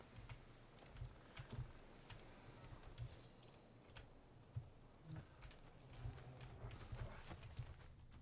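The horse Roach gallops in The Witcher 3, a steady rhythmic clip-clop of hooves at moderate distance, faint and even over a low background hum.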